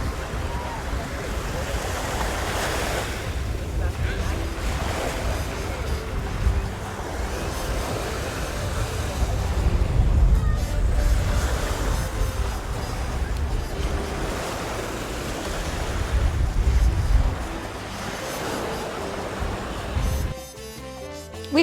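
Ocean waves rolling onto the beach at Puerto Morelos, Mexico, with repeated surges of surf breaking every few seconds, mixed with gusty wind buffeting the microphone.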